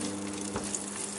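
Garlic butter sizzles steadily in a pan for a cheesy tortilla: a close, even broadband hiss with one faint clunk partway through.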